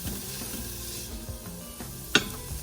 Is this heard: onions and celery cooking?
yes